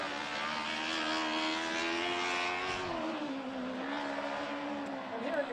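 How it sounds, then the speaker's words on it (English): A high-revving Formula SAE race car engine screams past during an endurance event, a loud continuous whine that shifts pitch as the car goes by, with other car noise around it. "I'm hearing an interesting noise down here as each of the cars comes past, but in particular the UTAS car sounding very high revving"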